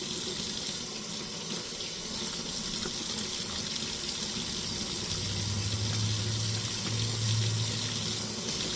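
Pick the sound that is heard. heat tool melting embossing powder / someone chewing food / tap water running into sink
tap water running into sink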